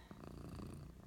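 A domestic cat purrs close up, a soft, steady rumbling pulse that runs without a break for about a second, with no other sounds.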